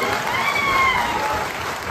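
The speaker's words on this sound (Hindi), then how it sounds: "मैं सबसे पहले तो चाहूंगा एक बार जोरदार तालियां" Loud, dense applause from an audience at an event, a continuous wash of many hands clapping close by with no pauses.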